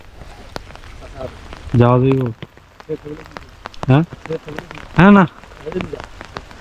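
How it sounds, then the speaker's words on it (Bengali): Rain falls on a village pond as a soft, steady patter of scattered drops, close and continuous beneath intermittent bursts of conversational speech. "বৃষ্টির সময় আসলে পুকুরটা দেখতে অনেক সুন্দর লাগে, ঝরঝর করে পানি পড়ে"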